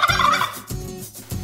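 A human voice imitates a big turkey gobbling, with rapid throaty warbling bursts repeated three times in close succession, loud and near.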